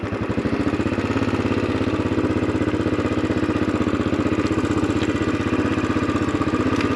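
Royal Enfield Bullet Trials 500 single-cylinder motorcycle riding slowly along a country lane, its steady low thumping engine beat close and continuous throughout, with no talk.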